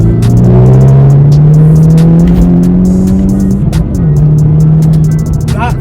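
A stage 1 remapped Volkswagen Scirocco R pulls hard in third gear from about 35 mph down a long straight road, its engine note rising steadily and loud, close up from inside the car, with a turbo whoosh near the end.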